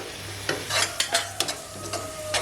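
Banana flower pickle with ground fenugreek, mustard and asafoetida being stirred as it fries in oil, a close series of scraping stirs over a steady soft sizzle, with no voices.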